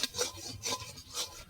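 Mango kheer being stirred in a pot as it thickens, with cardamom added: soft, repeated scraping strokes of a spoon against the pot, about three rasping sweeps, close and fairly quiet, no talk.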